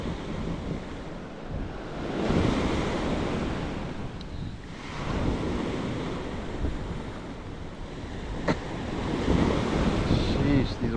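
Heavy ocean surf breaks and rolls onto a Captiva beach in repeated surges, loud and close, with strong wind buffeting the microphone throughout.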